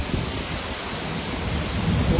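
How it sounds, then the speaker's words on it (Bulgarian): Summer thunderstorm with a dense roar of rain and wind and a low rumble of thunder, continuous and loud throughout the brief stretch. "Буря, лятна буря."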